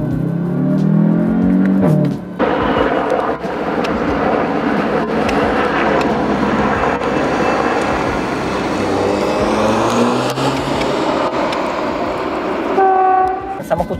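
Audi TTS Coupe 2.0 TFSI with 310 hp, engine and exhaust droning steadily while driving, loud and continuous under the cabin, with someone talking over it.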